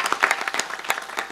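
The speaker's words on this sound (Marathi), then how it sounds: "एकदा चोपदार करता टाळ्या वाजवा." An audience at a Marathi devotional kirtan gathering breaks into a brief burst of hand clapping, quick and dense, lasting about a second and a half.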